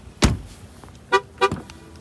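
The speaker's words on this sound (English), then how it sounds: "It's going to honk at me with the key in my pocket." 2013 Lincoln MKZ horn sounding in short chirps: one sharp toot followed by two more close together, heard nearby and fairly loud.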